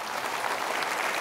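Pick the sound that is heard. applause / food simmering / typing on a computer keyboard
applause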